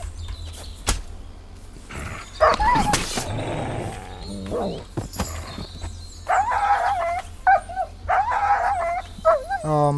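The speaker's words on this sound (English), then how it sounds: "Oh, my dog got injured." An injured dog whimpers and whines in Kingdom Come: Deliverance 2, with a short whimper early on, then a run of high, wavering cries in the second half over faint game ambience and thuds.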